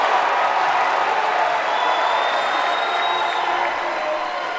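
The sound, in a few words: home crowd reacting to a travel call at a basketball game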